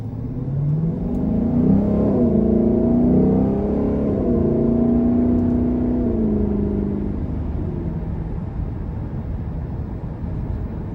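A 2021 Lexus LC500 Convertible V8 in Sport mode revs up to a loud, throaty crescendo, then its note eases and settles into a lower, steady rumble as it cruises.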